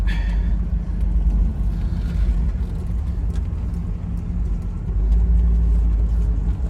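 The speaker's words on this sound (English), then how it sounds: "This thing drives, guys, and handles like day one." A 1977 Pontiac Trans Am on a test drive, its engine a loud steady low rumble heard from inside the car, with road noise throughout and no pauses.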